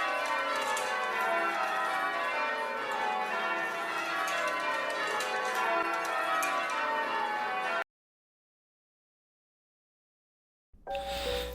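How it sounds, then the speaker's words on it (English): Church bells ringing from a large Catholic bell tower, a rich sustained pealing with overlapping resonant strikes, heard alone before cutting to silence and a brief burst at the end. "a large bell tower where Catholics will ring bells to signal when it's time for prayer and congregation"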